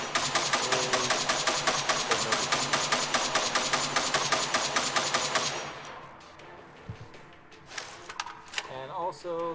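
Assault rifle gunfire in the sci-fi shooter Angels Fall First, a rapid steady burst of loud shots lasting several seconds, then breaking off into scattered clicks and handling noises while someone talks.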